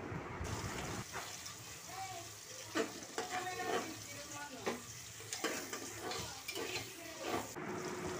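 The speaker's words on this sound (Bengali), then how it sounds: "এবার পেঁয়াজটাকে ভালো করে নেড়েচেড়ে বাদামি করে ভেজে নিতে হবে।" Chopped onions sizzle and fry in oil while being stirred, with scraping spoon strokes over a steady crackle, fairly quiet and close, and a voice talking intermittently over it.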